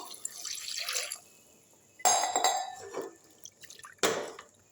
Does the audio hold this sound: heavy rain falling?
no